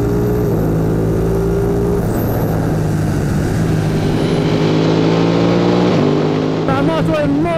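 Ducati Panigale V2 motorcycle accelerating hard: a loud, close engine roar that climbs in pitch, drops at gear changes and pulls up again, with rushing wind noise throughout.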